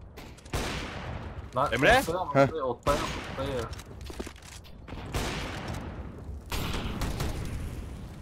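A shooting video game fires off bursts of rapid gunfire, heavy volleys recurring across the stretch, while a player talks briefly over the shots.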